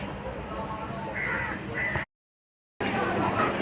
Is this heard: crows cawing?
yes